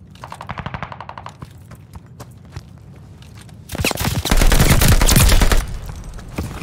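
Automatic weapon fire in the Call of Duty Vanguard video game during a competitive match: a few scattered shots, then long, loud sustained bursts of rapid gunfire with no talk.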